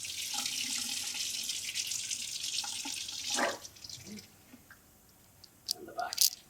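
A strong stream of tap water pours over an aquatint etching plate, a loud, close hiss that cuts off around the middle, followed by quieter drips, handling clicks and brief splashes.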